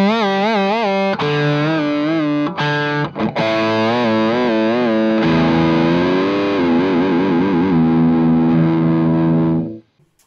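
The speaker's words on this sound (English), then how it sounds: "the string has free movement over the nut" A distorted electric guitar with a well-cut, well-lubricated nut plays sustained, loud notes with smooth string bends that waver in pitch, then fades out near the end.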